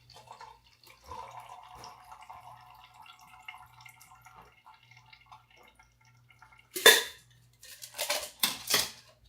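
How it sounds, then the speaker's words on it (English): Liquid from a cocktail splashes into a small metal tin, heard as a few short, bright splashing bursts near the end, after a quiet stretch of faint clinks and soft background hum. "Pour your cocktail into the small tin."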